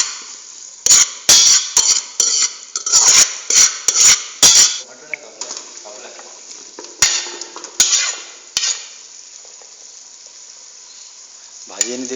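Onions fry in a pot on a trek campsite, a hiss of sizzling broken by a burst of loud metallic scraping and clanks from stirring, then quieter frying with occasional knocks.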